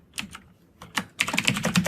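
Typing code on a computer keyboard, a few separate keystrokes followed by a quicker burst of clicking, close and moderately loud with no talk.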